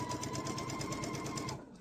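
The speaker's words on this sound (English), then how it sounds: "Remember to keep your pieces straight while you're sewing" A sewing machine stitches fabric pieces for a 16-patch quilt block, running in a steady, fast rhythmic chatter at close range before stopping near the end.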